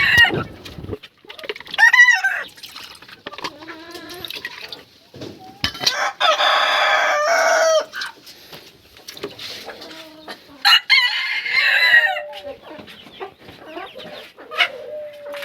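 Poultry on a farm raising fancy chickens cluck and crow repeatedly, with several drawn-out rooster crows and sharp clucks, close and clear over a quiet background.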